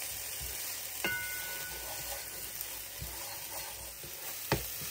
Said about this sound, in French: je fais bien revenir l'oignon dans l'huile d'olive